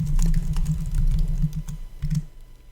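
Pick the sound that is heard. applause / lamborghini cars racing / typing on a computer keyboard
typing on a computer keyboard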